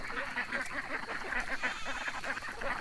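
A flock of ducks quacks and honks steadily, many overlapping calls forming a constant noisy chatter close by.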